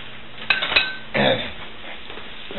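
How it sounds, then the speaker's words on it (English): A spoon tossing mushrooms and garlic in a pan for shrimp Marsala, giving a few clinks and scrapes of metal against the pan under steady background noise. "and just toss it and let these mushrooms cook down"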